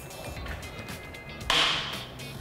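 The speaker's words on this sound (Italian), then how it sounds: "Il suono che avete sentito è chiaramente il copertone che stallona." An MTB tubeless tyre, being inflated with a compressor, snaps its bead onto the rim in one sharp crack over steady hissing air.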